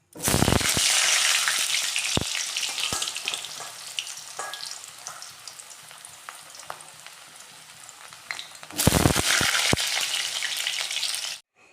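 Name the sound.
potatoes frying in hot oil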